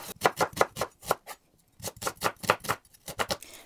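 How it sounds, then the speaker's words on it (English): A knife chopping a medium-sized onion on a board, with quick rhythmic clusters of crisp cuts in short bursts separated by brief pauses, close and fairly quiet. "So you want to chop a medium-sized onion."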